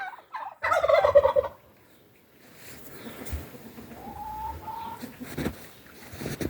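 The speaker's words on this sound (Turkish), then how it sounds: "bunlar tabii ki bizim evde yetişen tavuklar" Turkeys gobble in a loud burst of rapid calls, followed by quieter clucking and scattered poultry sounds in the background.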